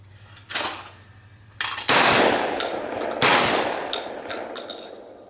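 A Benelli Ethos 20-gauge shotgun fired at clays outdoors, with four sharp loud blasts spaced about a second apart, each trailing off in a long rolling echo.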